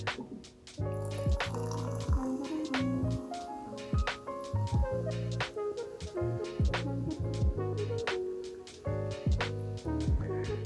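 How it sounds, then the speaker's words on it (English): Club soda is poured to top off a raspberry gin mojito in a glass, with a run of close, bright fizzing drips and splashes that carry on steadily for about ten seconds. "And now we just add the final ingredient, which is a top off of club soda."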